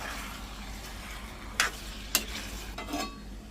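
Salted spicy chicken fry stirred in a pan over a low steady sizzle, with two or three sharp spoon scrapes and clinks standing out near the middle.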